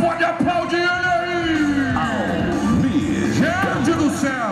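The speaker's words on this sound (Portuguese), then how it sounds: "dá uma salva de palmas e um grito" Rodeo crowd at a bull-riding final in Taquarituba, São Paulo, shouting, whooping and cheering loudly at night, with an announcer's voice carrying over the noise.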